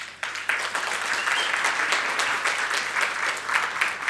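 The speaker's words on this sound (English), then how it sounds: "let us welcome Glenn on stage by clapping" Conference audience applauding to welcome a speaker on stage, steady dense clapping from a sizeable crowd lasting a few seconds without talk.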